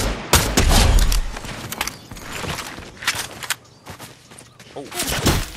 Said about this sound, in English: There goes basically everything just exploding.